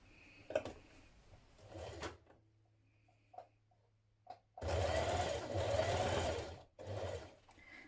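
A sewing machine runs in bursts while stitching the pockets of a shirtdress, with short quiet pauses and small clicks between runs; the longest burst is loud and steady, and there is no talk.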